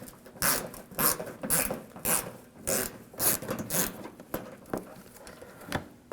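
A ratchet wrench with a 7mm socket backs out a screw behind the front bumper cover of a 2007-2013 BMW 328i, giving a run of close, rasping clicking bursts in a steady uneven rhythm with short pauses between them.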